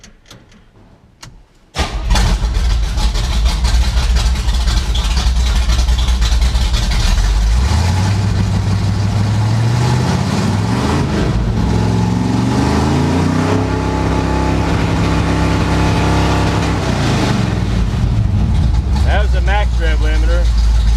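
A stepside truck engine fitted with a Mallory 695 two-step ignition box cranks and fires after a quiet start, then idles loudly and rises and falls in revs nearby, with someone talking over it.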